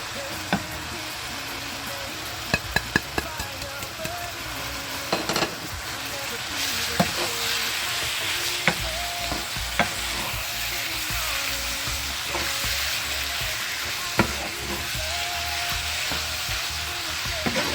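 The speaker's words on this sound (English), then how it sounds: "So I'm gonna add it to my meat and stir it up." Ground meat seasoned with Maggi seasoning, ginger and onion sizzles steadily in a pan for a shepherd's pie, with repeated scraping and clicking stirs throughout and no talking.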